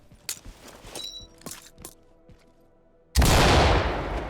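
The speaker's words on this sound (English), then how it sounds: "They changed the sound for the flashbangs and it sounds amazing." A flashbang grenade goes off in the tactical shooter Ready or Not, a sudden loud blast that swells and lingers as a dense roar after a few scattered thumps and footsteps.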